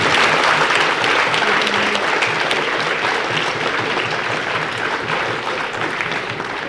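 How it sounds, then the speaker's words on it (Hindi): Thunderous audience applause at a Bait Baazi poetry competition during an All India Educational Conference in Aurangabad, a dense, steady wall of clapping from a large crowd that carries on loudly without a break. "आपकी तालियों की गड़गड़ाहट में वो दब जाना चाहिए"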